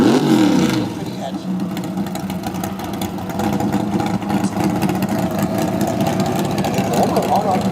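A Buick hot rod engine rumbles steadily at idle with a deep low throb, loud and close, while people talk over it.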